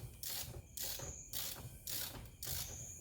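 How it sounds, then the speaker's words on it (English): A 3/8 ratchet with a 17 socket tightens a fork bolt during a Yamaha YZ125 fork rebuild, giving five or six steady close bursts of rapid clicking with short pauses between strokes. "17 socket on my 3/8 ratchet. All the way down until it hits."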